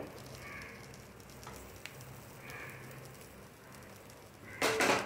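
Onion and garlic frying in a pan for sukka mutton, a soft steady sizzle at low level throughout, ending in a brief louder burst of crackling.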